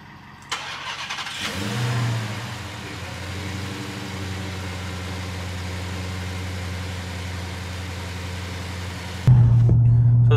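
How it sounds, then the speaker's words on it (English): Dodge Challenger Redeye with a Hellcat cold air intake fitted, its supercharged engine starting with a sharp bark, then a long steady rumble under way before a louder, close idle at the end. "This is what the intake sounds like after."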